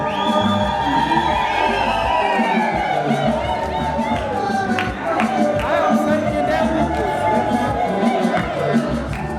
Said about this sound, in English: Let's clap hands for Lydia.